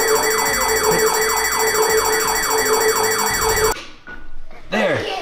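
A home security alarm blares loudly with a rapid repeating electronic wail, then cuts off abruptly, followed by brief rustling and a short sweeping beep-like tone.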